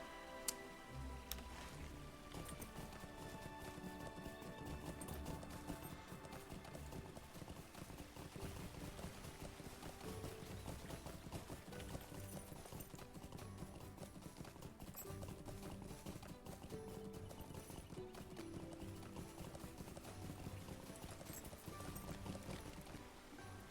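Horse hooves clip-clop in a steady, rapid rhythm in the Lord of the Rings Online game, faint and continuous over a busy game soundtrack.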